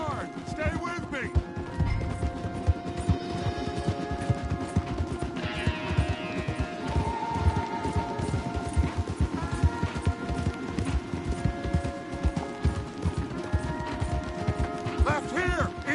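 Horses gallop hard through Red Dead Redemption 2, a steady, rapid drumming of hooves close by, with occasional whinnies and clattering and voices talking over the ride.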